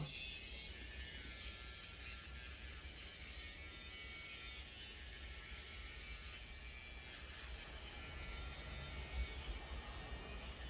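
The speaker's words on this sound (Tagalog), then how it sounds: "Pang-ahit po ito ng maliliit na hair tulad nito." A small rechargeable electric hair shaver for fine facial and underarm hair runs steadily throughout, giving a continuous high buzzing whir with a faint mechanical rattle, close and even in level, with no talking.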